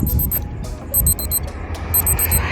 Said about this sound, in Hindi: इसका रात को 12 बजे अलार्म बज रहा है